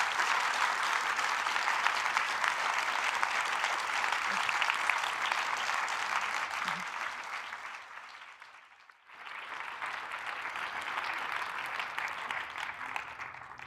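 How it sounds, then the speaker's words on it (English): Sustained audience applause closes the Norad Conference 2024, a loud, dense roar of clapping hands that dips briefly to near quiet partway through, then swells again and carries on steadily. "Give her a big round of applause."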